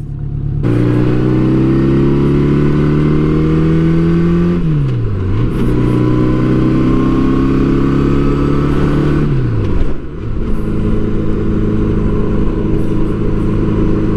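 A 1984 Honda Gold Wing Aspencade motorcycle accelerating on a road, its engine droning loud and close, rising in pitch through two gears with shifts between them, over steady wind noise.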